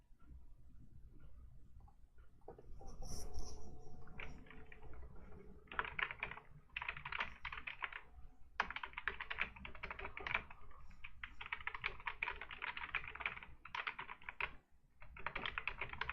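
Fingers type on a computer keyboard, starting with a few scattered taps and then settling into dense bursts of clicking broken by short pauses, close and fairly quiet.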